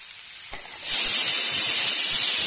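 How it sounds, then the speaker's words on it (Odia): Mushrooms coated in spices hit hot oil over a high flame in a pan for a mushroom curry, bursting into a loud, steady sizzling hiss after a brief clatter, close and continuous with no talking. "ଟିକେ ତେଲ ଦେଇଦେଇଛି ଏଥିରେ, ଆପଣ ବଟର ବି ନେଇପାରିବେ। ହାଇ ଫ୍ଲେମ୍ରେ ଏହାକୁ 2 ମିନିଟ୍ ଖଣ୍ଡେ ଭାଜିବା।"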